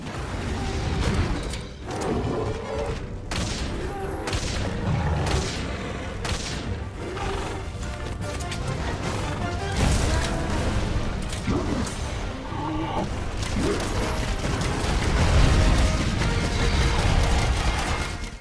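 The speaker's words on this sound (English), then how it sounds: "The rock-steady mantle allows our hunter to keep a steady hand whilst firing at the monster." Gunfire in the video game Monster Hunter World as the hunter fires at a monster: a dense, continuous barrage of shots and booms with mechanical clanks, loud and sustained throughout.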